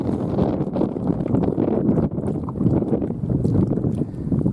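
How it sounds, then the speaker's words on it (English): Wind buffets the microphone on Wallace Lake in the Idaho mountains during a fishing trip by paddled boat, a loud continuous rumbling gust with faint water and paddle knocks underneath. "Wind is picked up. Makes it hard to paddle."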